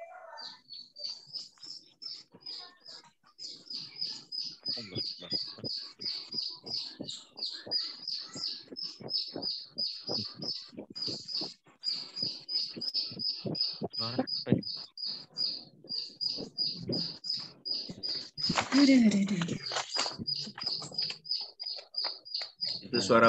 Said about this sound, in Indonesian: Itu suara burung siapa itu?